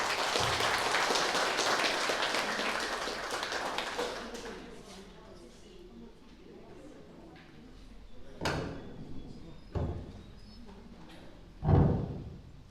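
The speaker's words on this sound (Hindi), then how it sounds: "कृपया तालियों के साथ उनका स्वागत करें।" A burst of applause from a crowd at an Indian Independence Day ceremony fills the first few seconds, then fades, leaving a few scattered knocks and thumps.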